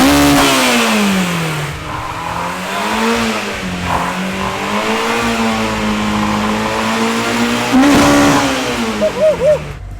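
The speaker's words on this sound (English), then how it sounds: "The backfire this thing just did." A Honda-powered drift car engine revs up and down in loud, close surges, its tone rising and falling for several seconds before a few sharp backfire pops crack out near the end.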